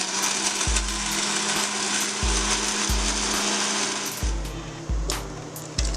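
A blender whirs loudly in repeated short bursts, its motor pulsing on and off as it churns a thick coconut protein shake.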